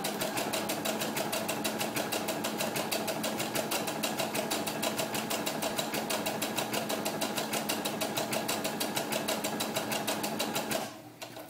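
A sewing machine runs a back-and-forth applique stitch on doll clothes, a fast, even mechanical chatter held steadily for about eleven seconds before stopping abruptly, close and clear with no talk.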